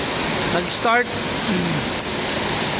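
Heavy, steady rain pours down in Nuvali under a very dark sky, a dense continuous hiss with someone briefly talking over it.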